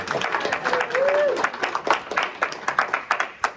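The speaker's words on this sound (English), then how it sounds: "give yourself an applause for that" Audience applause at a Sunday morning church service, a scattered patter of clapping with a voice briefly rising over it before the claps thin into sparse, separate slaps.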